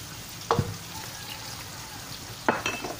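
Hailam noodles frying in a pan with tomato sauce give a soft, steady sizzle, broken by two sharp scraping stirs of a utensil against the pan, alone with no talk.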